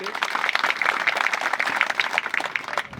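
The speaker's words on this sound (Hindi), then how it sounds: "जोरदार ताली से स्वागत करें" Audience applause at a workplace safety day meeting, a steady dense patter of many hands clapping throughout, fairly close and even in level.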